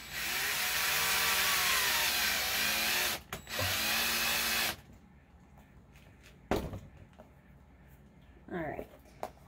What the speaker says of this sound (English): So we are going to drill out this hole